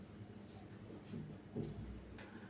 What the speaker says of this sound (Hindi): तो अब हम लिखते हैं नाउ